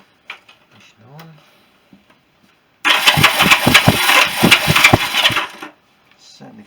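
A Honda CB350 motorcycle engine turns over on the starter in one burst of about three seconds. Faint clicks and handling noises come before and after, in a quiet space.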